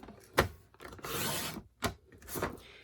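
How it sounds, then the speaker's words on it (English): Paper trimmer blade slicing cardstock to a 7-inch width: a few short rasping, scraping strokes, with a longer sustained scrape in the middle, close and fairly quiet, with no talking. "I'm just going to put this in my trimmer and cut it at 7 inches"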